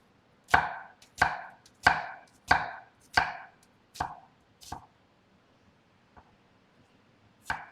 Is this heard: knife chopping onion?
yes